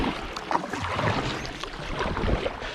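A small boat is paddled over fallen logs in shallow water on a duck hunting property, with close splashy strokes, scraping and rustling in a continuous outdoor wash.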